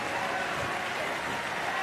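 Capacity crowd applauding at a para table tennis match, a steady dense wash of clapping that holds evenly throughout, loud and close with no breaks.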